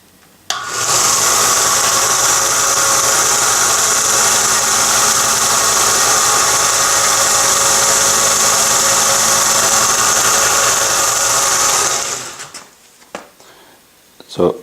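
A Harbor Freight 1x30 inch belt sander spins up and runs steadily with a loud, high whine while a fishing lure hook is held against the belt, then winds down, with a voice talking over it.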